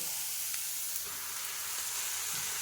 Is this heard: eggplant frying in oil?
yes